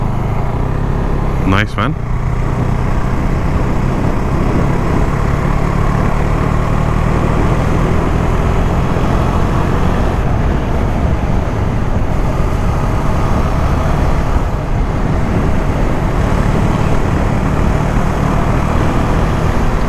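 A KTM Duke 390 motorcycle rides a road toward Mullayanagiri near Chikkamagaluru, with a loud steady engine drone and rushing wind noise throughout, and a voice speaks briefly near the start.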